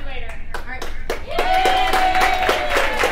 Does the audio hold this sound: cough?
no